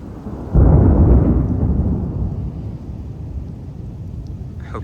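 A loud thunderclap rolls in during a lightning storm in Houston, Texas, erupting after half a second as a deep rumble that slowly fades into steady rain and storm noise.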